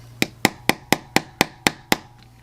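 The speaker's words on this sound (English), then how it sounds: "we're just going to pop that in with our trusty soft hammer" A soft hammer taps a pin into an Invicta Pro Diver watch band, eight crisp, evenly spaced knocks in quick succession, close and distinct, followed by quiet.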